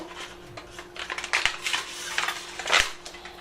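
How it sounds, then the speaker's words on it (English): A knife scrapes and taps around the edges of a metal cookie cutter lined with quick-release foil to loosen melted pony beads, producing a series of close, light metallic clinks and scratchy scrapes. "just take a knife and kind of loosen it up around the edges"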